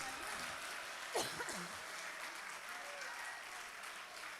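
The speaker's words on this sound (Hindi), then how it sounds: "बजाइए आप तालियां" Audience applause at an international mushaira poetry recital held by the Bihar Anjuman Jubail chapter: steady, fairly quiet clapping from a crowd, with a brief voice calling out partway through.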